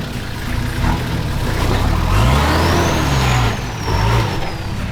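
A 4WD vehicle grinds along a deeply rutted, washed-out bush track, its engine loud and close as it rises and falls through revs and strains over the uneven ground.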